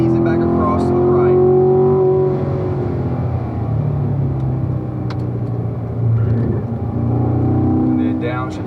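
A Corvette accelerating on a road racing track, its engine droning and climbing in pitch from inside the car, with a voice talking over the steady rumble.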